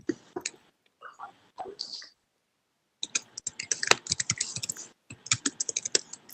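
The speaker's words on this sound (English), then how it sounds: "I hear someone typing." Quick bursts of typing on a computer keyboard come through an online group call, clustered key clicks in short runs separated by brief pauses, fairly close and with no talking.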